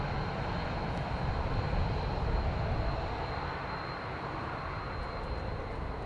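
An Aer Lingus Airbus A320 arriving from Heathrow at Dublin Airport: a constant, loud jet roar with a thin high whine, steady for the whole stretch, with no voices.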